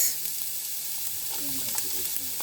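Onions hit a hot pan and fry with a continuous bright sizzle and hiss, close and steady, with faint stirring scrapes underneath and no talk.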